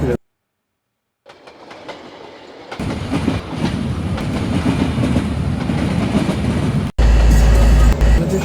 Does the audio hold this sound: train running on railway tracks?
yes